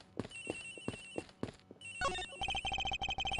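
A cell phone ringtone chimes in the Ace Attorney Investigations video game, first with rhythmic footstep-like taps, then turning into a louder, rapidly pulsing electronic ring near the end.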